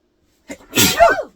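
A single sharp sneeze, close and clear, with a short intake of breath before it and quiet all around, inside a grain bin tiny house.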